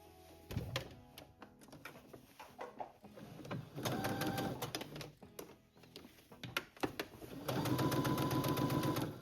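Sewing machine stitching darts on a woven square-neck top, running in bursts of rapid mechanical whirring separated by short pauses, with a longer steady run at the end, close and fairly loud.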